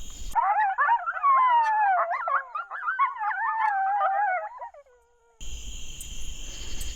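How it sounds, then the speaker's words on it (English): Eastern coyotes howling in the woods, a chorus of wavering, overlapping howls and yips at middle distance, holding for several seconds before cutting off, with insects and ambient hum faintly underneath. "Let's see if we can get them to howl before we blab too damn much."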